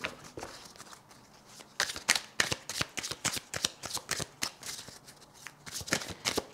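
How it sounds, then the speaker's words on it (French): Tarot cards shuffled by hand: a quick series of crisp riffling snaps and flutters, close and clear, in irregular bursts with no talking. "Je fais sauter les cartes et je vous lis le message."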